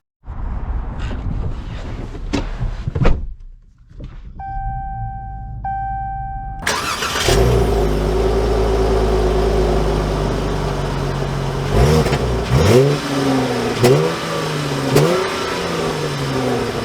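A 2022 Dodge Challenger GT AWD is started after some quiet handling noises. The engine catches abruptly, settles into a loud, steady idle close by, then gives several throttle blips that rise and fall.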